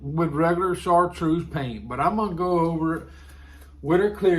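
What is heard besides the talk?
None of the usual background noises is heard.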